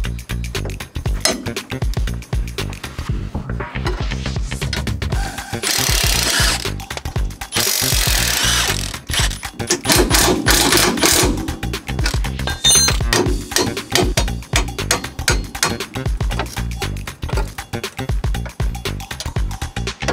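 A power tool, likely an impact gun, zips off the strut lower bolt nut on a Subaru Crosstrek, with loud whirring bursts and metallic clinks from tools and parts between them and no talking.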